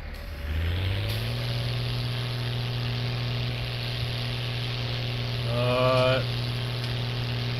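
A John Deere tractor engine running in Farming Simulator 19, a loud, steady drone that revs up briefly at the start and again near the end, sustained throughout with no voice over it.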